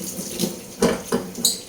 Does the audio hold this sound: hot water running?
yes